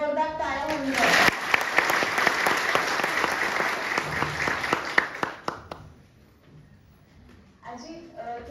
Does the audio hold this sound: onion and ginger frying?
no